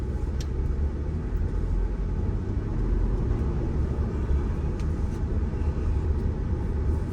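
A car driving through Hernando Beach, Florida, heard from inside as a steady low road rumble and engine hum, with no talk over it.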